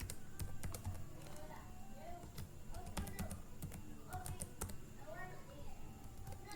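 Computer keyboard typing a file name in a desktop mapping program, a steady run of light clicking keystrokes close by over a faint background hum.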